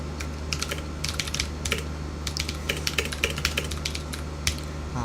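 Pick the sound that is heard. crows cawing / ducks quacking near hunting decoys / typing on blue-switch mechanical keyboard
typing on blue-switch mechanical keyboard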